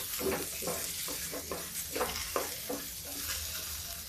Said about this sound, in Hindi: अभी घुइयां हमारी भून चुकी है,